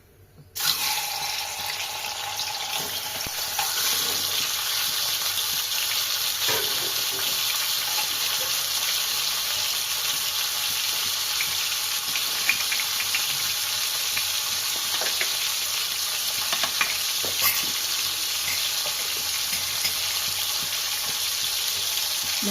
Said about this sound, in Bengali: প্রথমে মাছের মাথাটাকে ভেজে নিব